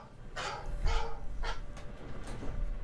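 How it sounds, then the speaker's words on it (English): A dog barks four or five times in a loose sequence, fairly near, each bark short and sharp over a low rumbling background. "Now the dog's barking."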